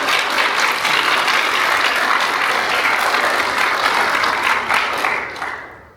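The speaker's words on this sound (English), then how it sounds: "Graduates, let's applaud your guests in gratitude." An audience at a nurse pinning ceremony claps together in sustained applause, loud and even, tapering off at the end.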